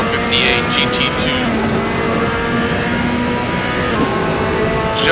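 A Ferrari 458 GT2 race car in a racing video game at Imola, its engine droning steadily with rising and falling revs as it passes, loud and continuous under commentary talk.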